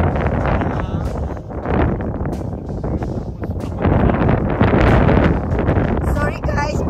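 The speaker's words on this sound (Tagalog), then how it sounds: "Ang hangin, pero carry lang." Strong gusting wind buffets the microphone with loud rumbling bursts at a campsite in Al Quaa, under intermittent talk outdoors.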